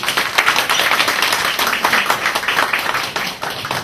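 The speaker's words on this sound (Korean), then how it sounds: "우리 김정구 총재님한테 박수 한 번 좀 주시죠." An audience in an auditorium at a youth charity event claps for a foundation's president, giving several seconds of brisk, uneven clapping from many hands at moderate loudness.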